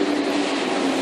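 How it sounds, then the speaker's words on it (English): A double-decker train at a Paris station gives a steady, loud rumble with a low droning hum, continuous and close with no voices. "And here's our train,"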